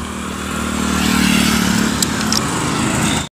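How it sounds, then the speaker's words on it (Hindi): Motorcycle engine running and revving near a park, a steady close rumble with rising throttle for a few seconds and no talk over it. "ये रहा हम लोग का बाइक"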